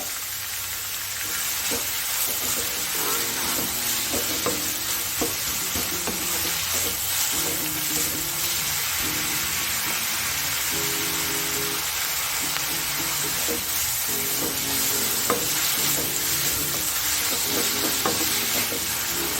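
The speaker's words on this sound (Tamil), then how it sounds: "இது நல்லா ப்ரௌன் கலரில் சேஞ்ச் ஆகும். அது வரைக்கும் இதை ஃப்ரை பண்ணலாம்." Ginger potatoes with curry leaves frying in a pan, a steady dense sizzle running throughout with repeated scraping and stirring knocks of a spoon against the pan.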